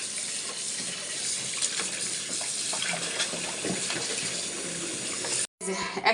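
Beef tripe is washed under a running tap, a steady close gush of water with splashing that cuts off abruptly near the end before resuming briefly.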